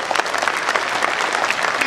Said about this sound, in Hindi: सुनो तो भरपूर तालियों से सुनो।